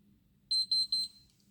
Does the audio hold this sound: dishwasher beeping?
yes